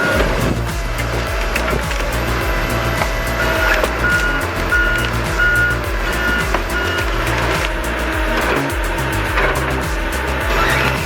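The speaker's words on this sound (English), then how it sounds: "A Tigercat 875E logger with 282 horsepower is working hard in the freezing snow" Tigercat 875E logger with a 282-horsepower engine working in freezing snow while stacking felled logs, a loud continuous engine drone with rhythmic hydraulic pulsing, clanks and repeated mechanical beeping.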